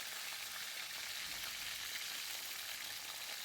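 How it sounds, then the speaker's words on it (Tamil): Four brinjals sauté in oil for kathirikai kuzhambu, giving a soft, even, continuous hiss with no breaks and no voices. "4 கத்திரிக்காவை இது நல்ல ஓரளவுக்கு பொன்னிறமாக நல்லா வதக்கிக்கோங்க."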